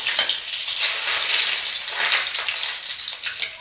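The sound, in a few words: bay leaves sizzling in hot oil for khichuri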